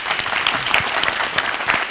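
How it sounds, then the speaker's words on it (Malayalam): An audience at a Malayalam comedy stage show bursts into loud, dense applause, many hands clapping together in a continuous close wash with faint crowd murmur underneath. "അവർക്ക് നല്ല ഗംഭീര ഒരു കൈയടി കൊടുക്കാം."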